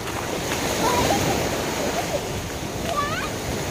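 Sea waves roll and wash in continuously at Thiên Cầm beach, a loud, steady surf roar with faint bird-like chirps drifting over it.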